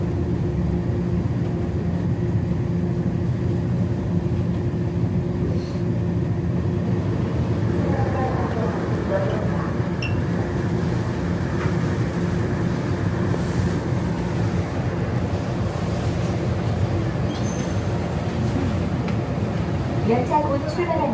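Seoul Sillim line light rail train running and then slowing toward a stop, a continuous low rumble and hum with faint squeals and rattles, heard from inside the carriage.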